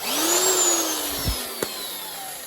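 A West German hammer drill whirs steadily, its motor pitch sliding gradually downward as it runs, with a couple of brief knocks near the end.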